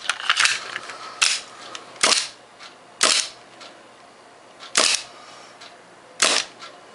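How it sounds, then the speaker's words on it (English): A gas-powered airsoft 1911 pistol with a Kimber-marked slide dry fires six times at irregular intervals, each a sharp, close metallic clack with a short gassy hiss. "And I think I can dry fire this as well."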